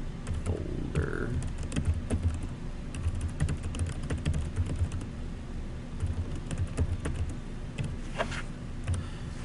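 Computer keyboard typing, a steady stream of close, quick key clicks running throughout over a low background hum, with no talk.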